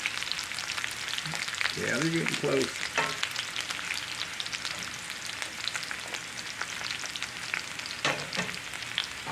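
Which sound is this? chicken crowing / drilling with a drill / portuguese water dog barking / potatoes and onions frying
potatoes and onions frying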